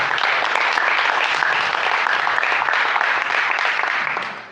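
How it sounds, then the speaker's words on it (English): An audience claps throughout, dense and steady applause at a live event that carries on evenly before tapering off at the very end. "Give them a round of applause."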